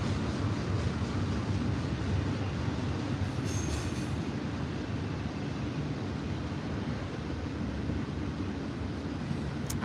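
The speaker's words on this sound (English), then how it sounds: "I stay next to the train." Train rolling past on rails right beside a house, a loud, steady, close rumble and rattle of wagons lasting throughout, with a brief high squeal of wheels midway.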